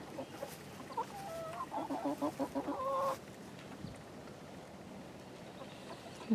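A chicken clucks in a quick run of repeated notes at close range, then falls quiet against faint outdoor background noise.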